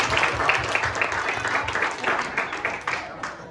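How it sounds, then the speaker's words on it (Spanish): A crowd applauds steadily, dense clapping from many hands that holds for a few seconds before thinning slightly toward the end. "Un aplauso para el grupo de allí que lo hizo muy bien"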